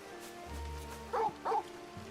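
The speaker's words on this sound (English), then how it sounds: "I hear you barking" A dog in the video game Final Fantasy XVI gives two short, sharp barks close together over a steady low in-game ambient hum, with a fainter third yip just after.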